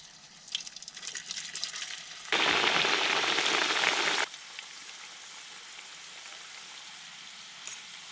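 Potato chips frying in a saucepan of hot oil over an open campfire, a loud steady sizzle that bursts in suddenly, holds for about two seconds, then drops back to a quieter background hiss.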